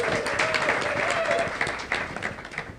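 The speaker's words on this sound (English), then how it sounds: "Go, clap" An audience at a live podcast recording applauds the production teams: a dense, steady burst of clapping close by that gradually thins out, with some voices mixed in.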